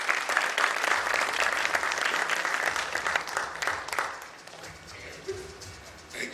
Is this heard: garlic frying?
no